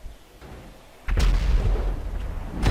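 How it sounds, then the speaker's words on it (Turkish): In Grand Theft Auto V, a sudden heavy boom cuts in after a quiet moment, followed by rumbling blasts and a second sharp explosion near the end. "Ha bu patlama yerleri nereden geliyor?"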